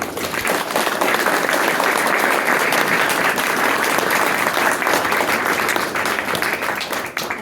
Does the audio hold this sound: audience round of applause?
yes